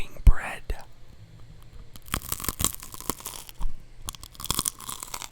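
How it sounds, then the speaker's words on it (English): Crunchy bread chewed close to the mic in a series of crisp, irregular bites, with soft whispery mouth noises between them and a quieter stretch in the middle. "Today we're gonna be chewing bread."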